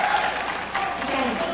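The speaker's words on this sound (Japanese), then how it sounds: "会場からの拍手が大きくなりました。" Audience clapping at a sumo bout during a national sports festival in Muroto, Kochi, a dense steady wash of applause swelling slightly partway through, heard up close.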